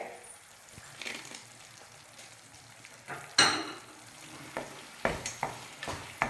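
Coconut halva made without ghee or sugar, stirred in a pan as roasted cashews and almonds go in; soft sizzling under scattered scrapes and several sharp spoon knocks against the pan.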